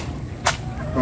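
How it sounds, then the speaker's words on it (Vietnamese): A hammer strikes boiled snails once, a single sharp crack standing out against a low background hum. "Lấy búa đập."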